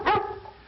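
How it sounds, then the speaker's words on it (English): A single loud bark from a big dog, close and alone, with a short ringing tail fading out. "I want big barks."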